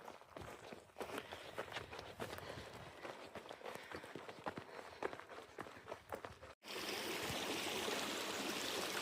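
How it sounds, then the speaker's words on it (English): Footsteps crunch along a backpacking trail for several seconds, then a creek at a trail crossing takes over as a steady, full rush of flowing water. "Beautiful little creek crossing with the lush vegetation."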